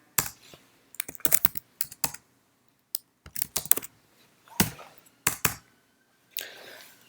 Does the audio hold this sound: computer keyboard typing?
yes